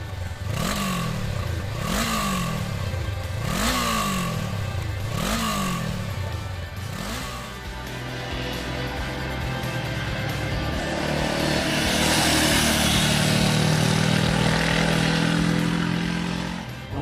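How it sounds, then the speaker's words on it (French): Honda 471 cc parallel-twin motorcycle engine revving in a run of rising sweeps through quick gear changes, then settling into a steadier drone with rushing wind noise, close and loud. "Un moteur bicylindre en ligne de 471 cm3 qui délivre ses 35 kW à 8500 tours-minute"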